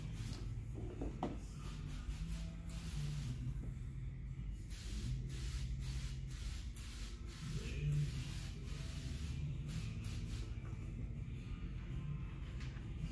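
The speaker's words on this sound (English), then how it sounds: "Spray it down." Repeated hissing bursts of a spray bottle misting water onto a 2003 Corvette window for tinting, close and fairly soft, alternating with rubbing and quiet handling noises.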